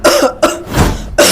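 A patient coughs for a doctor during an examination: three or four loud, harsh coughs in short bursts, close by, with brief gaps between them and no talking.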